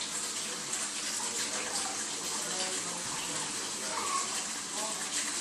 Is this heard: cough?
no